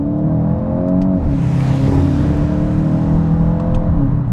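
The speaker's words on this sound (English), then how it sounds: "Those gear shifts are instantaneous because the second clutch is already pre-engaged into the next gear." A 2025 VW GTI with a dual-clutch gearbox accelerates hard, its engine note climbing steadily and staying loud and close throughout, with a brief dip near the middle that could be a quick gear change.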